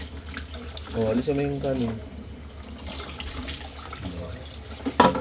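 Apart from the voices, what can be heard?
tap water running while washing dishes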